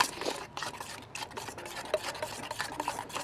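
Colgate toothpaste slime being mixed by hand, a steady wet rasping and squishing with irregular sticky pulses, close and fairly quiet, no voices.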